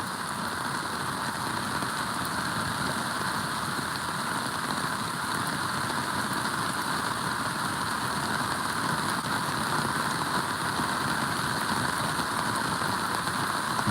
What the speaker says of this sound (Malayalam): നമ്മൾ പ്രതീക്ഷിക്കാതെയാണ് ഇതുപോലെയുള്ള മഴയൊക്കെ വരുന്നത്